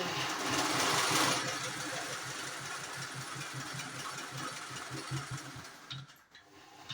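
A pico sewing machine stitches the fall onto a saree with a steady, rhythmic mechanical whir that runs continuously and then slows and stops near the end.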